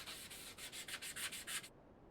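Sanding a piece of scrap wood with a power sander: about nine quick rhythmic rasping strokes in under two seconds, close and bright, then it stops.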